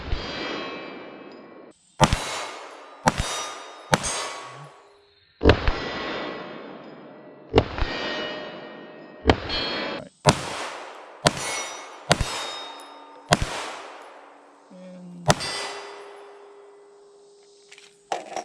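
A PSA Dagger pistol with a threaded barrel fires about a dozen single shots, each a sharp loud crack with a ringing tail, spaced irregularly a second or two apart.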